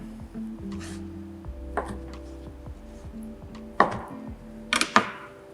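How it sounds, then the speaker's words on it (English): Knife cutting tempeh into cubes on a board, heard as a few sparse, close taps and chops spread out over a quiet background, with a short double knock near the end. "So I cut my tempeh into thirds and then just make little cubes"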